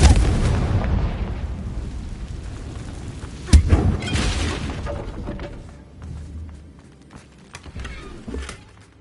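Explosion from the Bombarda blasting spell in the Hogwarts Legacy video game: a sharp boom at mid-clip rising out of a busy rumbling game soundscape, followed by lighter crackling bursts.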